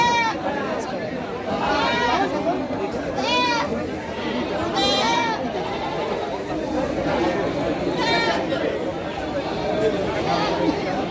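Many goats bleat repeatedly at a busy livestock market, their calls overlapping amid steady human chatter and talking, busy and close.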